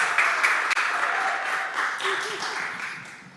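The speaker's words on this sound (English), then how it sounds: "Round of applause for Alexis." An audience at a live arts and technology showcase applauds a performer, a dense burst of clapping that is loudest at the start and gradually tapers off, with a voice faintly present beneath.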